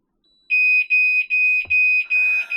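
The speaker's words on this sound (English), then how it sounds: "Let's set an alarm off and see what the difference is." A Raymarine boat alarm blares in loud, piercing, evenly spaced electronic pulses, about five long high tones close by, with a faint clunk and some background noise toward the end.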